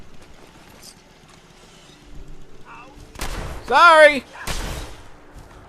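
Two loud, close gunshot blasts from the Fallout 4 video game ring out a moment apart against quiet game ambience, with a short spoken word between them.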